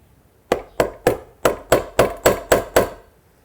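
Nine sharp hammer strikes land in a quick, fairly even rhythm, each a crisp knock with a short ringing tail.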